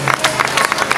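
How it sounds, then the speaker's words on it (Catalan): Applause and clapping from a crowd at a casting event for princess and knight roles, a brief burst of repeated claps close by. "doncs un fort aplaudiment també per ell"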